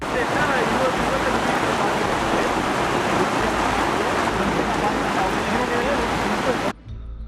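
Heavy downpour during flooding at a hillside estate, a dense loud roar of rain hitting surfaces that runs continuously, then drops abruptly near the end.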